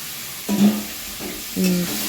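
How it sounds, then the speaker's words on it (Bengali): Ginger-garlic paste with turmeric and chili powder sautéing in a wok, a soft sizzle broken by two scraping stirs of a spatula, close and fairly loud, with no talk over it. "আদা রসুন বাটা সব একসঙ্গে দেখো একটুখানি কষিয়ে নিয়ে"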